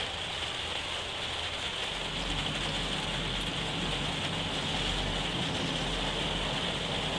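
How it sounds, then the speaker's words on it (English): Steady rain falling in the video game No Man's Sky, a dense, even hiss of drops that holds at a constant level throughout with no talking. "Got a bit of rain here."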